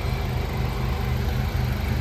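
A small automatic hatchback's engine idles steadily with a constant low rumble, close and unbroken, with no voices over it.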